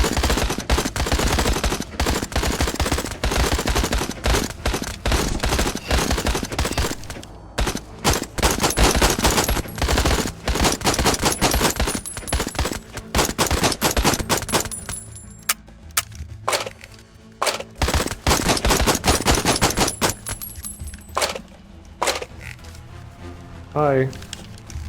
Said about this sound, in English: All these bullets that I'm wasting.